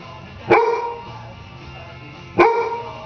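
Two sharp, loud dog barks spaced about two seconds apart, close by, with quiet room tone between them.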